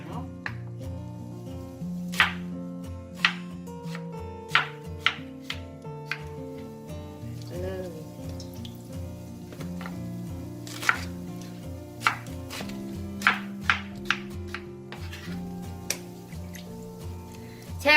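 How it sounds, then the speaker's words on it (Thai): A knife chops blossom into small cubes for a chicken and banana-blossom tom yum, giving sharp, irregular taps on a cutting board, loud and close, with short pauses between bursts. "นำมาหั่นค่ะ"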